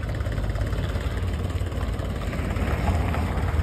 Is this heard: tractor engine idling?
yes